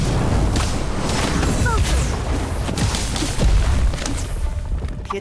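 An Incendio fire spell in Harry Potter Magic Awakened sets off a dense, loud run of booms, crashes and whooshing bursts of battle effects that goes on without a break, with voices mixed in.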